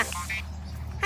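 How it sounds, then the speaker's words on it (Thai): A short white duck quack rings out over a noisy outdoor farm background near a goat pen, brief and moderately close. "ใช่ เป็ดขาว"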